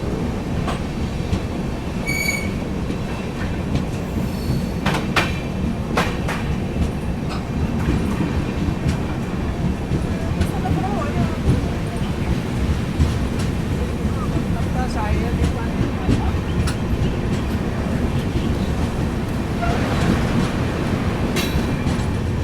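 The Duronto Express from Sealdah to Bikaner runs fast on rails past Rewari Junction in Haryana, a steady loud rumble of wheels with clacking joints and occasional squeals, continuous throughout while someone speaks over it.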